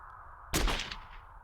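A single sharp gunshot in the visual novel game Chaos;Head Noah, a sudden loud crack at about half a second that decays into a rumbling tail over a steady low background hum.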